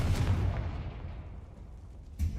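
A Confringo fire spell bursts in the Hogwarts Legacy video game, a loud, booming blast with a rumbling low-end tail that fades, then a second thump starts at the very end.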